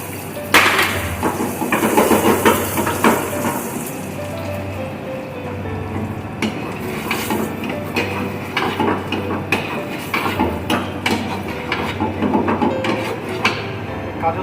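Cashews frying in desi ghee in a pan on a gas flame, giving a steady sizzle with scattered clinks and taps of utensils against the pan throughout.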